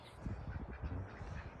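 A chicken clucks in a barn beside a newborn Jersey calf, a short burst of throaty, rough calls close by, with no talk.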